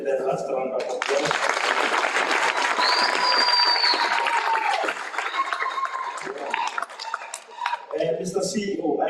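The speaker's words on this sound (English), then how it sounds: "Let's give them the last round of applause." Audience applause at a university graduation ceremony, broad sustained clapping from a crowd filling most of the clip, with some hall noise and faint voices, tapering off toward the end.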